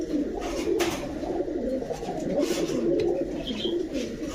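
Pigeons of large Rajshahi, Budapest and high-flyer breeds coo in a low, continuous bubbling chorus, several birds layered close together with a steady murmur throughout.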